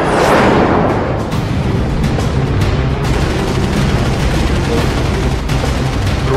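Bursts of 20 mm air-to-air cannon fire from a Phantom jet rip out in rapid, loud volleys over a roaring background, with sharp repeated cracks spread across the stretch.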